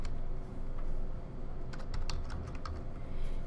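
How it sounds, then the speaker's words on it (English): Typing on a computer keyboard while entering text in Microsoft Word, a steady patter of close, light key clicks that quickens into a denser burst in the second half, with no talking. "And so I'm going to type practice technique."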